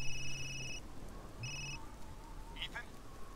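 A telephone rings in the video game Resident Evil Village, a few short electronic ring bursts that repeat after a pause, with a brief game sound effect following under low background ambience.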